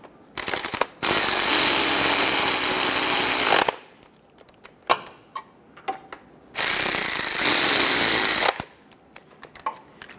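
A power impact tool snugs down the lower transmission mount bolts on a 2003-2007 Honda Accord 3.0L V6 in two loud sustained bursts of rapid hammering, separated by quieter clicks and metallic handling noises.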